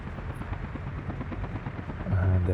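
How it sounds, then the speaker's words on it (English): Helicopter flying in the city-building game Workers & Resources, a continuous rhythmic rotor chop at moderate volume, with a louder low thrum rising near the end. "And there flies the helicopter."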